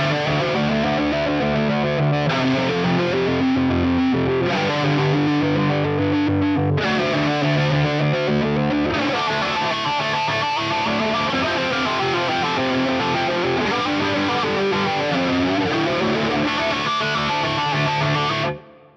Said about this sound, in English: I'll show you the step flanger really, really quickly because I just love the way this sounds